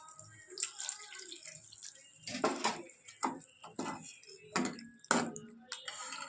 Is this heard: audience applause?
no